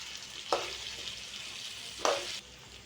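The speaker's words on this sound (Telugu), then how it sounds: "ఇలా కుక్ అయిన తర్వాత మిక్స్ చేసుకోండి." Bitter gourd curry with cooked tomato pieces being stirred in a pan, a low steady sizzle broken by two short scraping stirs, fairly quiet.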